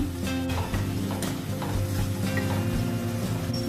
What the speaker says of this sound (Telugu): దీనిలో ఒక పెద్ద ఆనియన్ కట్ చేశాను, అది వేస్తున్నాను.